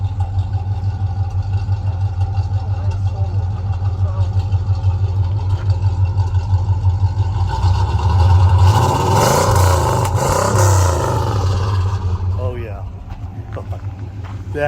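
A 1968 Pontiac GTO engine idles with a deep, steady rumble, then is revved hard around the middle into a louder, throaty roar before settling back to idle, with people talking faintly over it.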